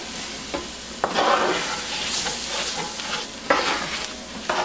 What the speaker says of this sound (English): a tablespoon of garlic and about 6 ounces of baby bella mushrooms. Stir those around for a minute